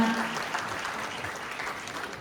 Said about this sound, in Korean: 김대중 교수님께 다시 한번 감사의 박수 부탁드리겠습니다